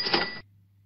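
A short, bright electronic eBay notification ding with a cash-register quality, about half a second long, ending abruptly into a low background hum.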